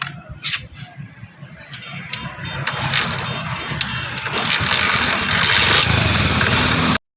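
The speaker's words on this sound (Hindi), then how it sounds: "आप देख सकते हैं कि इस बाइक के इंजन में थोड़ी सी आवाज़ आ रही है" A new Honda CD 70 motorcycle engine runs close by with a steady mechanical idle, slightly noisy, growing a little louder toward the end with no talk.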